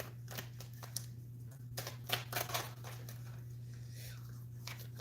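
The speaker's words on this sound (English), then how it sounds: "it's a messy shuffle" Tarot cards shuffled loosely and messily during a live zodiac reading, giving a run of soft riffling, flicking and patting bursts over a steady low hum, with a voice briefly heard.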